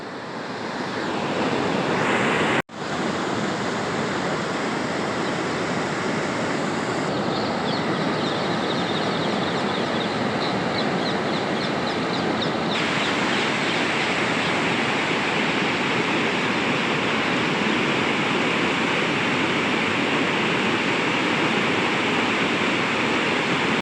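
Overflowing village dam at Hamipara after heavy rain, with water rushing over it in a loud, steady roar that fills the whole stretch without a break.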